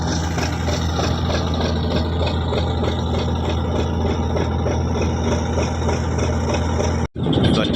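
A steady, low engine drone from a fishing carrier boat approaching, loud and constant, with a brief dropout near the end.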